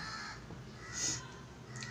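A crow gives a single loud caw about midway through, standing out clearly over a steady low background hum with no talking.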